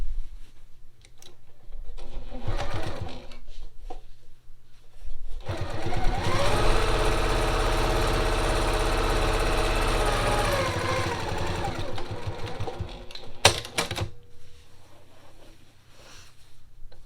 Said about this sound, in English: Now I can finish sewing it across.